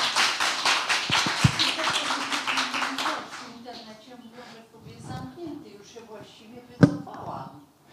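Brief applause from an audience at an author meeting, a few seconds of clapping that dies away into quiet room noise and scattered taps, with a voice speaking afterward.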